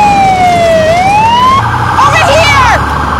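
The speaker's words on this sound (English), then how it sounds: "There's the ambulance" A loud wailing ambulance siren sweeps down and up, then shifts into a rapid warbling yelp, with traffic rumble and faint voices underneath.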